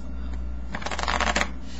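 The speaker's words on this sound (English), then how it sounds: "give some more cuts." A deck of playing cards is cut several times in quick succession, producing close, crisp riffling snaps that cluster in a brief burst with no talking.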